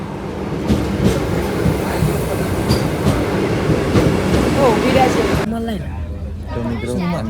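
Vande Bharat train running, a loud continuous rail rumble with clatter, which then drops away as people talk nearby.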